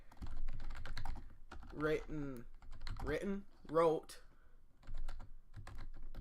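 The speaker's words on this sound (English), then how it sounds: "I know what you're typing on the computer now." Fingers type on a computer keyboard with scattered light clicks throughout, mostly under people talking nearby in a podcast setting.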